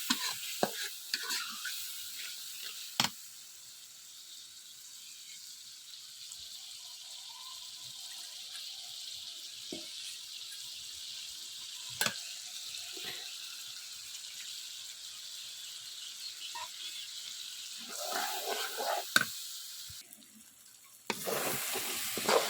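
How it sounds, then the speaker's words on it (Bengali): Spices and onions fried until reddish sizzle in a pan while being worked for a Bengali-style masala, a steady close hiss broken by a few sharp stirring knocks and scrapes. "মশলাটাকে ভালো করে কষে নেবেন।"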